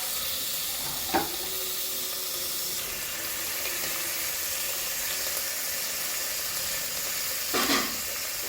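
Country chicken fries with onion and turmeric in a pan, giving a steady, moderate sizzle and hiss. Two brief scraping stirs stand out, one near the start and one near the end.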